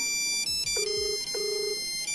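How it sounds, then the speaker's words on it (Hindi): A mobile phone ringtone plays on a call placed during an underwater signal test, a repeating electronic melody in short bursts with two longer sustained tones, fairly quiet with no talking. "तो फोन लगा लिया है और देखते हैं कि बजता है कि नहीं।"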